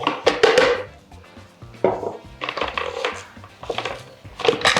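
A food processor gives a few quick whizzes to a vegan, gluten-free burger patty mix, short bursts of chopping and churning broken by brief pauses, close and fairly loud.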